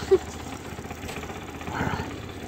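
A go-kart engine idles low and steady under a faint, close hum, with no talk over it.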